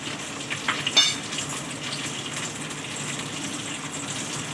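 Beaten egg seasoned with black pepper poured into a hot pan for a home-cooked anniversary dish, a brief pouring splash giving way to a steady, even sizzle with a faint utensil clink.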